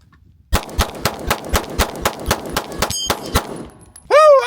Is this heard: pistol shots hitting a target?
yes